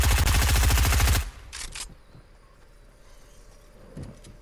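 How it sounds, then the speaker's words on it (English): Rapid automatic gunfire from the Fortnite video game rattles loud and close in a fast burst, then cuts off abruptly, leaving faint clicks and quiet game ambience. "Oh, look up, he's shooting at you."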